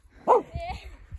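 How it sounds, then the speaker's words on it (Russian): A dog gives a single short bark amid an outdoor scene with children bounding about, close and fairly loud, followed by faint low rustling and movement. "Просто собака!"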